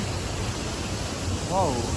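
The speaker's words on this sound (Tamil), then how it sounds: "இந்த ஃபால்ஸ் பாருங்களேன், வரும்போது கம்மியாக இருந்துச்சு, இப்போ அதிகமாக தண்ணி ஊற்றுற மாதிரி இருக்குது." A waterfall in Thrissur district pours heavily, giving a steady broadband roar that fills the scene; a voice briefly rises over the rushing water.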